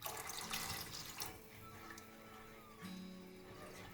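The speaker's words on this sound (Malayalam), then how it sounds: "ഇതിലേക്ക് 1/4 കപ്പ് വെള്ളം കൂടി ചേർത്ത് കൊടുക്കണം." A quarter cup of water poured into a pan of rava and milk for rava payasam, a soft splashing trickle that is quiet throughout, stronger at the start and briefly again near the end.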